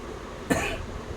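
A single sharp cough bursts out once, close and fairly loud, against a quiet room with no talking.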